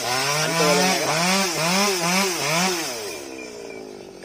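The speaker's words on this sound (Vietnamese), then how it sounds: "bắt đầu là anh cưa luôn các bạn" Chainsaw cutting through a large ancient-looking banyan trunk, the engine revving in repeated rising and falling waves as the blade bites, loud and close, then dropping off near the end.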